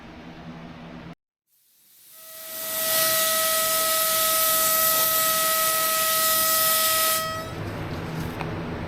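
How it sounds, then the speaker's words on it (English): A spray gun hisses as it lays primer surfacer over epoxy in the engine bay of a 1974 Plymouth Duster, starting after a brief cutoff, swelling to a loud steady close-up spray, then easing off near the end. "just got done putting 2 coats of primer surfacer on top of the epoxy"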